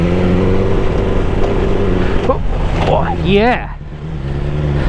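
A BMW S1000XR motorcycle engine hums steadily while ridden off road, its note dipping and shifting near the end, as a rider's voice exclaims over it.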